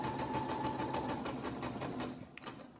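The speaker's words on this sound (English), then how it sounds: "so that's that seam sewn up" A sewing machine stitches a French seam in sheer, slippery fabric, its steady rapid motor whir and needle clatter running continuously and close, then stopping near the end.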